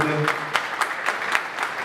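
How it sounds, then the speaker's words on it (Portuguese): Audience applause for the mediators of a round-table panel at a lecture on herbicides, steady indoor clapping with a brief voice at the start. "Vamos receber uma salva de palmas, é uma honra tê-los aqui nessa mesa redonda"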